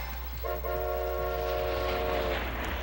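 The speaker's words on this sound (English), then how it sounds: "let's catch the next train out of here" A train in the Ape Escape 3 video game arrives with a long, loud horn blast that holds steady for about two seconds over a continuous low rumble of the moving train.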